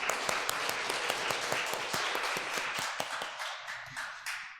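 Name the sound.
church congregation applauding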